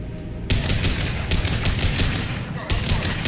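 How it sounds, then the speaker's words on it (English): Sustained gunfire in the video game Mass Effect 2 as Blue Suns mercenaries and Vorcha shoot, dense rapid shots and bursts at a steady loud level, with brief surges near the start and end, no talking. "Blue Suns and Vorcha shooting anything that moves."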